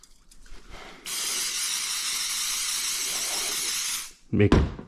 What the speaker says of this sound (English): Have a good spray.